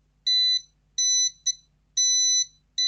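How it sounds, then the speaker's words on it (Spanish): A buzzer on an FPGA board sounding a series of sharp, high electronic beeps, five bursts of uneven length with brief gaps between them, close and clear over near silence. "suena como si fuese un escáner de los que hay en las cajas registradoras de los supermercados"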